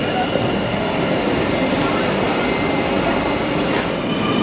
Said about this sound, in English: we're just waiting for our train